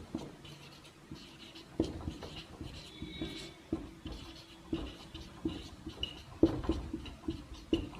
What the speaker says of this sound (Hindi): नाम लिख देता हूं उनका नाम